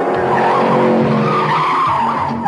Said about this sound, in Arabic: شاحنة نفايات.